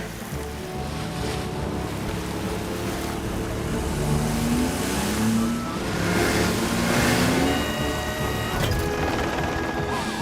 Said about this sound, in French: Sarah Joanneau est coincée dans la voiture de l'infirmière qui se dirige droit vers la plage.